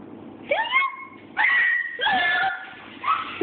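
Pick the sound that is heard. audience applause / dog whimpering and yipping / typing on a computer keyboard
dog whimpering and yipping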